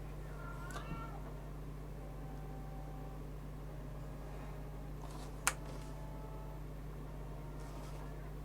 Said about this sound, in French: J'ai cru entendre mon chat gueuler